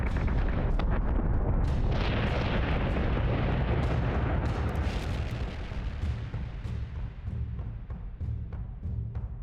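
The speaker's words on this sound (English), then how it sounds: "Optimizing firing solution. Firing on target." Ship weapons fire on a target in the space-combat game Battlestar Galactica: Deadlock, a dense, continuous barrage of booming blasts and bursts that rumbles loudly throughout with no talk.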